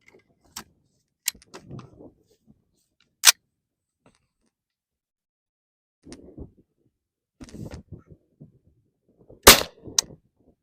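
A Ruger LC Charger 5.7 pistol fires 40 grain VMAX rounds, giving sharp, separate reports spaced irregularly across the stretch with quiet gaps and faint handling clicks between shots.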